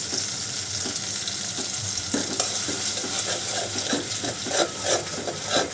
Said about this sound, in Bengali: দিয়ে মশলাটাকে ভালো করে কষিয়ে নেব